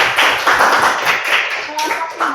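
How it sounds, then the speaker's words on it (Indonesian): A classroom of students claps for a student group, a short burst of scattered hand claps with some overlapping voices. "Tepuk tangan untuk kelompok 3."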